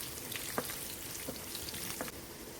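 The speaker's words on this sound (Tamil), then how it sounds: "3 காஞ்ச மிளகாய், 5 பல் பூண்டு மெலிசாக கட் பண்ணது வதக்கிக்கலாம்." Three dried red chillies and five thinly sliced garlic cloves fry in oil with a soft, faint hiss, broken by a few small pops and crackles.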